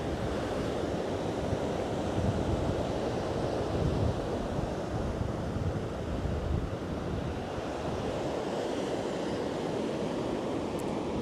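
Waves roll and break on a beach near a temple town at sunset, a continuous loud surf roar with wind buffeting the microphone.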